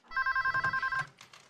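A telephone bell rings in a rapid, evenly pulsed burst of about a second, loud and close, followed by a brief quieter tail.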